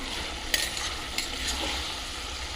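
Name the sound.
tomatoes and green chillies frying in a pan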